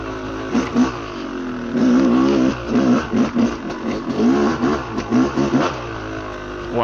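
A motorcycle is ridden on a day ride, its engine revving up and down in repeated surges of acceleration, loud and close, with wind noise between throttle bursts.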